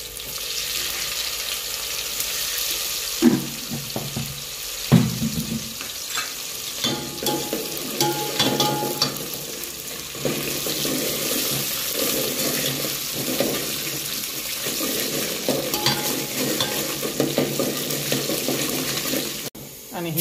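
Sliced onion dropped into hot oil with whole spices and cumin, hissing and crackling in a loud, continuous sizzle for a long stretch, with occasional clattering stirs and knocks of the utensil against the pan.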